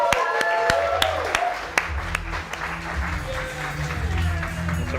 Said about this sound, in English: can we all give a massive round of applause